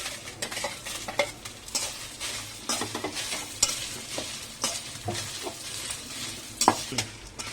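Dried red chilies are stirred and fried in a pan with other ingredients for a curry leaf spice powder. A steady, close sizzle runs throughout, broken by repeated scraping strokes of the stirring spoon.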